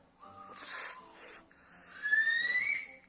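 A beginner attempts a finger whistle, producing breathy air bursts and snorting hisses before a wavering, rising whistle tone emerges briefly near the end, close and unaccompanied.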